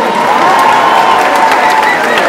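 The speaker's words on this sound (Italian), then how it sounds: "vi fanno un applauso sì o no?" Students at a Notte bianca della legalità opening event in the Palace of Justice break into sustained, dense applause with some crowd cheering, steady and loud throughout.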